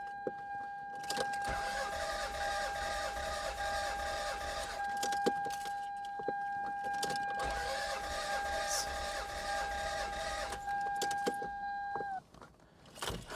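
A car's starter cranks the engine repeatedly with a GOOLOO A5 4000A jump starter attached: long, steady rhythmic churning in two stretches under a high constant whine that ends abruptly near the finish.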